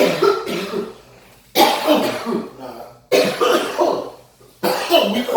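Several people cough hard after smoking a joint of crumble, harsh bursts of coughing and throat clearing coming in loud clusters with short pauses, close by, with a brief spoken word.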